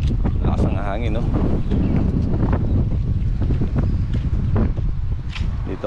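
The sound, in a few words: strong wind before rain in Dubai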